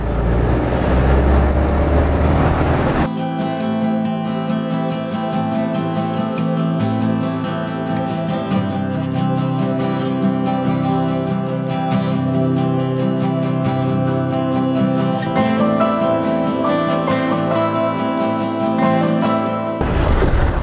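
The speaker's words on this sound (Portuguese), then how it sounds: "Reduzindo aqui para a segunda marcha para passar o quebra-mola" A motorhome rolls through a quiet neighbourhood in second gear toward a speed bump, its engine giving a steady, close, droning hum with a low rumble that holds level for the whole stretch after a brief rougher opening.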